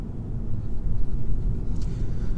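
A 2017 VW Golf GTI with a DSG gearbox on the move, heard as a steady low engine and road rumble from inside the cabin, with no distinct gear changes.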